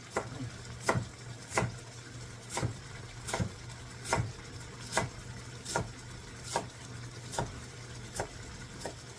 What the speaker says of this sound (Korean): 또 잘게 이렇게 다져요.